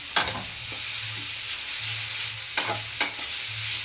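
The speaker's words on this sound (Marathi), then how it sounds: "आणि याला छान असं 5 मिनिट असंच परतून द्यायचं." Radish bhaji stir-fried in a pan, a steady soft sizzle under close scraping strokes of a spatula against the pan, several distinct stirring scrapes, with no one talking.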